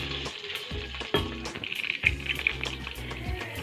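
About two tablespoons of fennel seeds fry in hot oil in a pan for biryani, giving a loud, close crackling sizzle with repeated sharp pops and stirring scrapes throughout.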